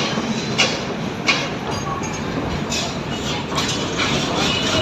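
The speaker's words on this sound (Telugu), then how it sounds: "గూడ్స్ బండి ఇది." A heavy goods train hauled by two engines rolls past on a railway track near an underpass construction site in Anantapur, a loud, continuous rumble and roar with periodic wheel clacks over nearly five seconds.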